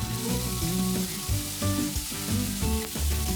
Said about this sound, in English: add 2 green chilies and fry it until the tomato is nice and soft.